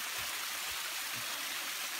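A brook flows steadily along a forest footpath after rain, a soft, even rush of water with a few low gurgles, close and alone with no voices.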